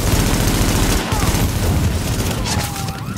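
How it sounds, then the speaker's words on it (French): Loud explosive blast and gunfire chatter from a grenade detonation in Tom Clancy's The Division, a dense burst of booms and shots filling the whole span with little pause. "Tu m'as jeté une grenade."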